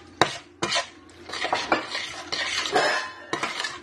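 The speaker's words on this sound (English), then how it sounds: "Stir it first and see if I've got enough sauce, which I do, I think." Stirring sauce in a cooking pan at home: metal utensil scrapes and clinks against the pan with a steady scraping swirl and a few sharp knocks, close and fairly loud with no talking.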